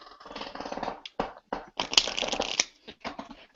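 A pack of playing cards being shuffled up close, with repeated crisp riffling bursts broken by short pauses, clear and fairly loud with no talking.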